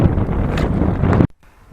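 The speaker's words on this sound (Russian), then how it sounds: "Вообще задувает просто с дороги." Strong wind roars against the microphone while cycling on an open road through fields in rainy weather in Chuvashia. It is a loud, steady blast that cuts off abruptly near the end, leaving quiet.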